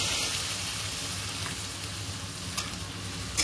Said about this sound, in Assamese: এতিয়া আমি এই পিঁয়াজটো দি দিম এইখিনি ধুনীয়াকৈ ফ্ৰাই কৰি ল'ম